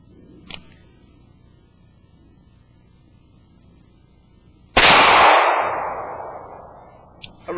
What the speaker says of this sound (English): let's shoot another one.